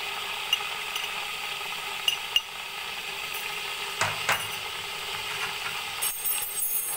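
Spiced masala with tomatoes for mutton yakhni pulao fries in a pan with a steady broadband sizzle, broken by a few light ladle taps and one louder scrape near the middle.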